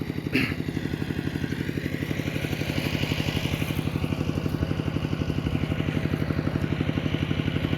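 An engine-driven water pump draws water out of a rice paddy, running with a steady, rapid chugging putter at close range and no break in its rhythm.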